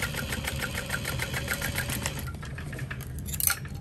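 A sewing machine stitching a 3/8 inch seam on a shoulder bag, a fast, even mechanical whir of needle strokes that runs steadily, then slows and stops near the end.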